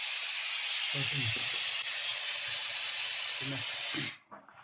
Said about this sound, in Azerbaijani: Usta hazırda tavanın poliuretan izolasiya işlərini görür.